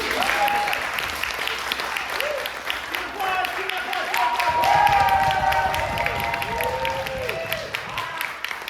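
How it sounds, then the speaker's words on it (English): A school show audience applauds its house teams with dense, steady clapping that swells slightly midway and lasts the whole stretch, with scattered cheers and voices rising above it. "Give yourselves a round of applause."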